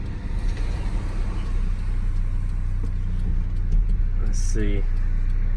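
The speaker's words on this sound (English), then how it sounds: "It's a 4-banger, but maybe it'll do a little tire squeal for us." A four-cylinder Chevrolet Sonoma pickup from a scrapyard, in need of shocks, driving down the road: a steady low engine drone heard from inside the cab, with a short spoken remark over it.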